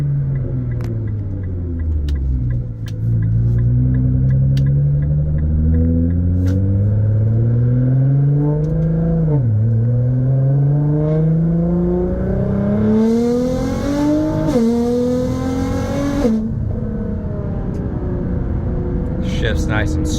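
Nissan GT-R Black Edition engine pulling steadily while driving, its loud drone rising in pitch through several long runs of acceleration, briefly dipping between gears, then settling into a constant cruise.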